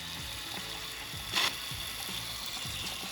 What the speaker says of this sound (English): I'm going to run the water for about 30 seconds to make sure all the debris is out of the line